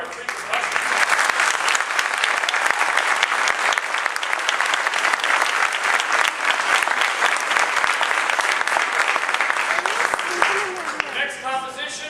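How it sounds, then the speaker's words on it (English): An audience at a school winter concert applauds three percussionists with loud, dense, continuous clapping that fills the room, with a faint trace of voices or instruments near the end. "if we can get a round of applause for our three percussionists"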